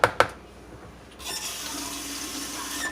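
A spoon clinks twice at a kitchen sink, then tap water runs steadily as it is rinsed, close and with no talking.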